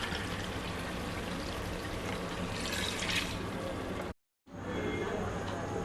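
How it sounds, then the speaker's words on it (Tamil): Water pours steadily into a pot of rice for chicken pulao, a continuous splashing stream that briefly cuts off then resumes, close and fairly loud. "அதுக்கு 4 கப்பு தண்ணி ஊற்றணும்."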